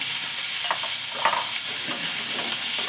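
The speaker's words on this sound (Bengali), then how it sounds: "এইবার এই তেলের মধ্যে তোমার এই যে আলুগুলো যে কেটেছি ছোট ছোট করে, সেই আলুগুলো দিয়ে দিলাম" Small-cut potato pieces go into hot oil and are stirred in a pan, producing a loud, continuous crackling sizzle with occasional scraping stir sounds.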